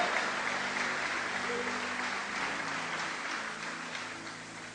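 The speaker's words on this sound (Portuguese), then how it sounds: "dê um aplauso a Ele e libere um grito de vitória" A church congregation at a Sunday night service breaks into sustained applause, a dense, steady wash of many hands clapping that slowly fades slightly toward the end.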